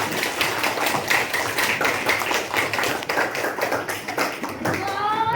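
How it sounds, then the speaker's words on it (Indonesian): Schoolchildren in a classroom clap their hands together in a steady, dense burst of applause, near and loud throughout, with a voice briefly heard at the end. "Beri tepuk tangan."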